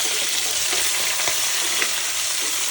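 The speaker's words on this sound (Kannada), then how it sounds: "ಸೊ ಇವಾಗ ಅದು ಕ್ಯಾಪ್ಸಿಕಮ್ ಸಮೇತ ನಮಗೆ ನೀಟಾಗಿ ಫ್ರೈ ಆಗಲಿ" Capsicum frying in a pan for temple-style chitranna, a dense, loud and steady sizzle with a few faint stirring taps, close up and without talk.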